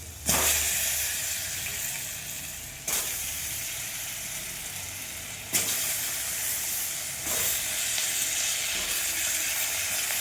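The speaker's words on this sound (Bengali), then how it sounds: "এবার আলুটা ভেজে নেব।" Potatoes frying in hot oil in a home kitchen, a continuous close sizzle and hiss broken by a few sharp clatters as pieces are turned or added, roughly every two to three seconds.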